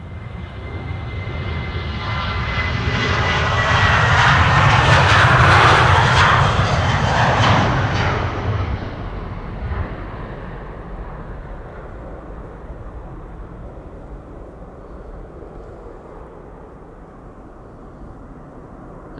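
A KLM passenger jet departs Amsterdam Schiphol airport on a flight to Oslo, its engine roar swelling as it passes overhead, peaking loud after about five seconds, then fading into a long distant rumble.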